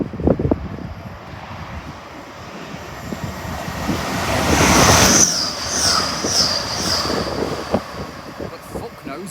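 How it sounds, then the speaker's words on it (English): An LNER Azuma train passes through Newark Northgate station, its rumble swelling to a loud peak midway and then easing, with high wheel squeal tones ringing out as it goes by and faint voices nearby. "The 1232 LNER Azuma from London King's Cross to York."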